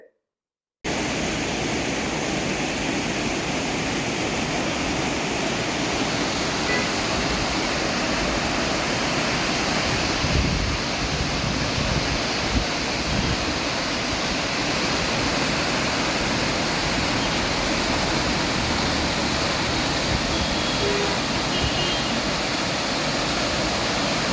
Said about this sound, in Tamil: இந்த வாட்டர் ஃபால்ஸுக்கு மாணிக்கிய தாரா அப்படின்னு இன்னொரு பேரும் இருக்குது